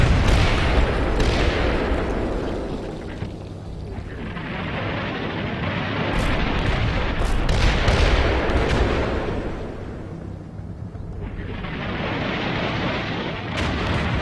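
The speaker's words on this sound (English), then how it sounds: "Might have overdone it a bit with the artillery here" Heavy artillery fire and explosions in the video game Combat Mission: Battle for Normandy roll on continuously, with deep booms and rumbling blasts overlapping one after another at close range.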